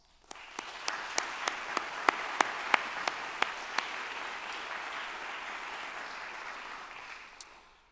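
Steady applause from an audience honoring university leaders at a fall university address, a broad wash of clapping holding for several seconds with a few sharp, louder claps near the front before it tapers off.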